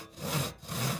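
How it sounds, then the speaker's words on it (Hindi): A long hand saw cuts through a huge log in two back-and-forth strokes, each a rasping, rhythmic scrape of the blade, heard close and alone. "ये उस आरी की आवाज़ है"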